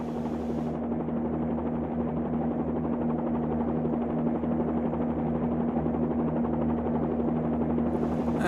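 A simulated Bell 47-2G helicopter in the FlyInside flight simulator drones with a steady, loud engine and rotor buzz, a constant low throbbing hum that holds without a break while throttle is adjusted.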